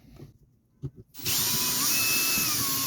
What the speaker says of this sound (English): I don't think that drill bit is very sharp.